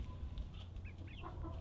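Soft chicken clucks and short calls over a low rumble, with brief chirpy notes scattered across under two seconds.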